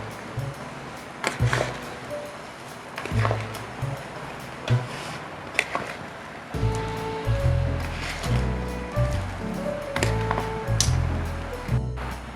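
Puffed rice, chutneys and beaten curd for bhel puri are stirred together in a bowl, making moist squishing, crunching and rustling sounds in irregular bursts at close range, with faint background music.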